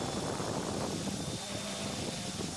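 A GOOSKY E2 Venom scale RC helicopter in stable flight gives a steady, dense rotor and motor drone with a faint high whine, continuous and fairly near.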